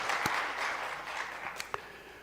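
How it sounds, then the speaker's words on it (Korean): A church congregation applauds to welcome a visiting pastor and his wife during a Sunday service; the clapping is soft and distant, a steady diffuse patter with a couple of sharper claps near the end. "우리가 박수로 환영하겠습니다"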